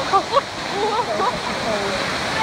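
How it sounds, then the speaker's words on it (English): A rushing waterfall roars steadily in the background while people talk briefly over it, the wash of falling water continuous and fairly loud. "You ready to go into the waterfall?"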